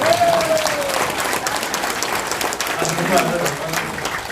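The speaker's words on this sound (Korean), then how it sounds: "그래서 박수 한번 쳐드리세요." Applause from an audience at a political forum: steady, moderately loud clapping that fills the room throughout, with a voice speaking faintly over it.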